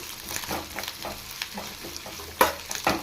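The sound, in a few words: onions frying and stirred in a pan for mutton sambar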